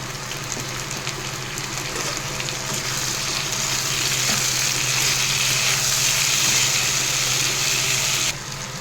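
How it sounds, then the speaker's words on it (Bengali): Eggplant and potato pieces fry in hot oil in a pan, giving a steady loud sizzle that holds through the clip, with a faint low hum beneath, and cuts off sharply near the end. "নিয়ে প্রায় আমার বেগুন আর আলুটা ভাজা হয়েই গেছে"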